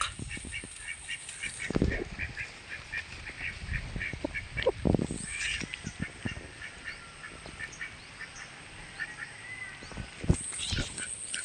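Endangered marsh birds call repeatedly in a wetland, with duck-like quacks and honks scattered at moderate distance over a constant background of insect or ambient hiss.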